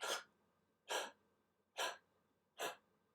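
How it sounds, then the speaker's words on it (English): Four heavy, breathy exhalations in a slow, even rhythm, close and distinct, with quiet pauses between them. "you'll hear some heavy breathing"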